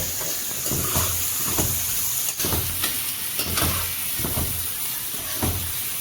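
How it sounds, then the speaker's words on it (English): Chopped onion and tomatoes sauté in a hot pan, producing a steady close sizzle and hiss. Rhythmic stirring scrapes recur about every half second. "we will be sauteing onion and tomatoes together"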